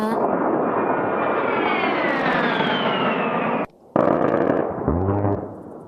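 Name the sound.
A-10 Warthog Gatling gun cannon firing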